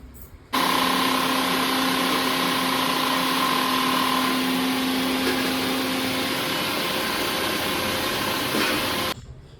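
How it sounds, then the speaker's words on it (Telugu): A mixer grinder grinding dosa batter whirs at full speed with a loud, steady motor drone, starting abruptly and cutting off just as suddenly near the end. "ఈ విధంగా అయితే మిక్సీ పట్టుకున్నాను"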